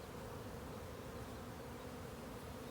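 Honeybees buzz in a dense, continuous hum around an open hive, close and steady, with no voices.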